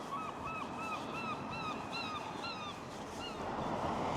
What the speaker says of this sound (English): The seagulls are getting a bit noisy.